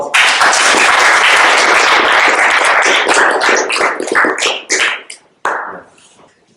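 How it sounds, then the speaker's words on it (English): A lecture audience gives a loud round of applause, dense clapping that holds steady for several seconds, then thins to scattered claps and fades out near the end. "one more round of applause."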